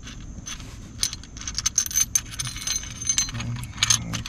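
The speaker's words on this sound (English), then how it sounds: "first thing you want to do is take out the tamper-proof screws" Tamper-proof screws being removed from a Honda Accord ignition switch housing, with close metallic scraping, light jangling clicks and small tool scratches in short irregular bursts, no voices.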